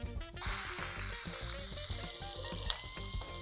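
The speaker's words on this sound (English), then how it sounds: "I'm going to grab my steak, add it to the pan, and I'm going to sear this for about 1minute 30 seconds on each side" Steak searing in a hot pan with avocado oil gives a steady, close sizzle and crackle throughout, with music playing underneath.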